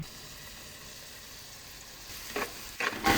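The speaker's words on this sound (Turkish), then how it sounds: "Havuçla beraber biraz daha soteliyorum" Carrots sauté in a pan for a green lentil dish, giving a steady low sizzle throughout, with a few louder stirring scrapes near the end.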